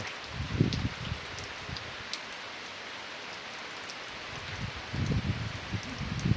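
Steady rain falls outdoors in a hillside village, a soft continuous patter with low gusty rumbles near the start and end.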